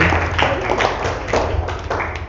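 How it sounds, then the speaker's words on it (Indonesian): A class of schoolchildren claps together on request, a close, uneven patter of small hands in bursts with scattered voices mixed in. "Kita tepuk tangan dulu ya."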